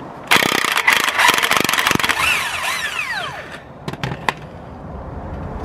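Impact wrench hammering at a rusted lower control arm bolt on a 1992-2001 Toyota Camry, loud rattling bursts at first, then tapering into quieter clanks and scattered knocks.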